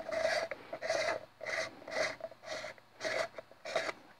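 A transparent plastic garden filter housing is twisted open by hand, giving a run of about eight rhythmic rasping, grinding scrapes of threaded plastic, close and fairly loud, with no talking.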